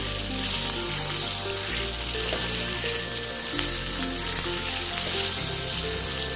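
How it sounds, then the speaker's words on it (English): Large chopped onions sauté in hot oil with spices for a restaurant-style dum aloo curry, giving a steady, close sizzle and frying crackle throughout. "I chopped them really big, and I'm going to saute them into the spices."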